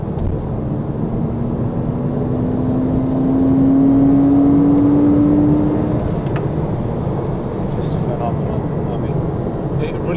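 A mid-engine Porsche Cayman sports car revs up, its engine note rising and swelling in the middle before settling back, heard from close range over steady road and cabin noise.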